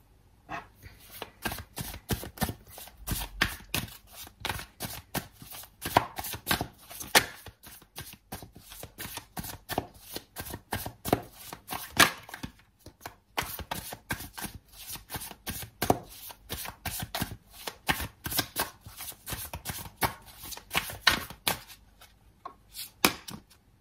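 A deck of tarot cards is shuffled over and over, rapid riffling bursts and crisp snapping clusters repeating in an uneven rhythm for a long stretch, close and fairly quiet.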